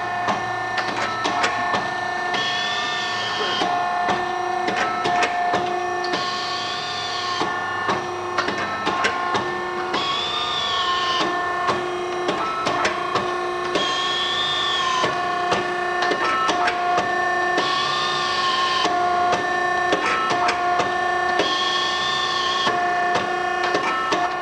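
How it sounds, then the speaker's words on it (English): A Model 9000A tube-forming machine forms a 9-foot tube, giving off steady, continuous mechanical running with repeating cyclic whirring passes every few seconds, loud and close, with no talking. "Right now we're forming a 9-foot tube."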